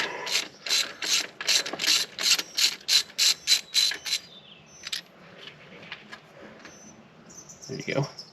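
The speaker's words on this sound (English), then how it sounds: "I'm gonna take my ratchet and just bring it on out." Ratchet loosening the ACT sensor on a Fox Body engine: a close, loud run of about ten evenly spaced clicks, then a few scattered clicks and faint handling noise.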